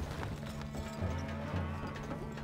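Horse hooves clip-clopping at a gallop in the medieval strategy game Stronghold: Crusader, a steady rhythmic beat over continuous game background sound.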